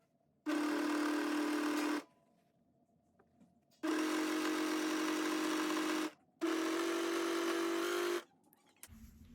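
Sewing machine stitching trouser seams in three long steady bursts of about one and a half to two seconds each, separated by short pauses, with no talk.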